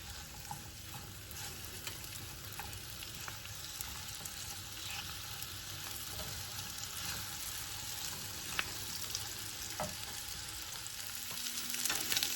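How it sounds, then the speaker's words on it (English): Onions fry in a skillet with a soft, continuous sizzle and faint crackles, heard close and steady throughout with no talking. "So let's put our onions in there. I'm just going to cook those for a few minutes until they're nice and soft."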